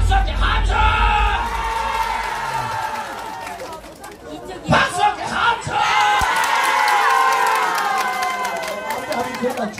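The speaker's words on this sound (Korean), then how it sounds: "쪽간대 팀 박수 함께 함성!" A loud outdoor crowd at the Donghae Mureung festival pumba show yells and cheers as one team, with a shouting voice near the start, a brief lull, then a big swell of cheering.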